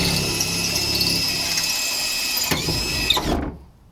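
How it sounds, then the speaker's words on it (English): A power drill with a drill bit whirs steadily while drilling out a rivet, close and loud, with a brief catch near the end before the motor cuts off and falls silent. "you're gonna grab your drill bit, and you're just gonna drill that,"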